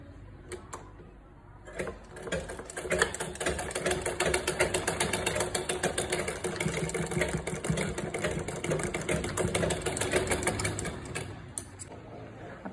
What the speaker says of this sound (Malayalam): എന്നിട്ട് ഈ ഷോൾഡർ ജോയിൻ ചെയ്തിട്ട് സ്റ്റിച്ച് ചെയ്തെടുക്കുക.